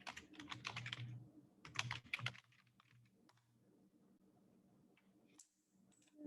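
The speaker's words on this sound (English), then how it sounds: "me try typing that in." Rapid clattering keystrokes on a computer keyboard come in dense bursts, then thin out to sparse, quieter taps and clicks near the microphone, with no talking.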